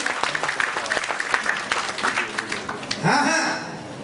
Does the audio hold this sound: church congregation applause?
yes